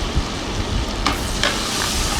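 Chilli powder sizzles in butter and oil in a hot pan while being stirred for butter chicken, a steady crackling fry with a couple of quick scraping strokes.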